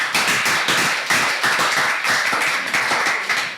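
An audience at a student debate competition in Nigeria applauds after a speech on homework, with steady rhythmic clapping by a modest crowd, close and even in volume, with no talking over it.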